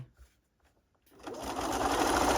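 A sewing machine stay stitching fabric starts up after a second of near quiet, then runs in a loud, steady mechanical whir close by until the end.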